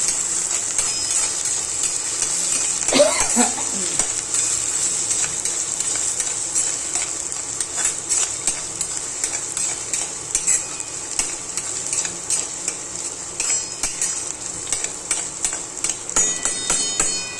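Onions frying in a pan with garlic tempering until browning, a continuous sizzle under frequent stirring scrapes and clinks of a utensil against the pan, close and steady.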